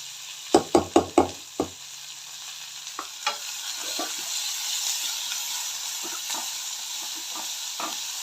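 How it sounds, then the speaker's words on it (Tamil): Curry leaves and onion drop into hot oil for thavalada: a few sharp knocks and bursts of sizzling, then a quieter continuous frying hiss with intermittent stirring scrapes. "கருவேப்பிலை, வெங்காயம் போட்டு வதக்குறோம்"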